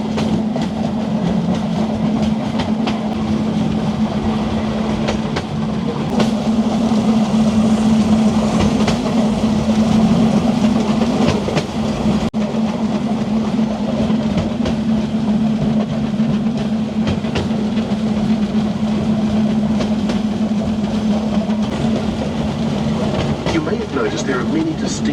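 A Railcruiser rail cart with a short wheelbase runs along a railway track through trees near Rotorua, its steady low rumble and faint clickety-clack continuing throughout with a light hiss over it.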